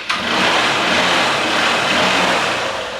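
Used motorcycle engine kicked into life with its electric self-start, a quick starter catch followed by a steady, close, loud engine run with no talk over it.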